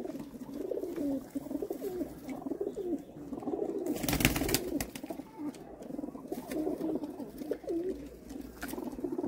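Pigeons at a bird sale in Jammu coo steadily in low, rolling calls, several birds overlapping close by, with a brief burst of rustling or wing noise partway through.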